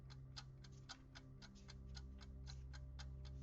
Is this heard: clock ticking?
yes